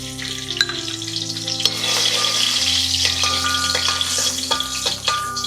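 Raisins frying in a spoonful of hot ghee for Ashali laddu: a loud, close, continuous sizzle with occasional pops and stirring clinks, and no voices.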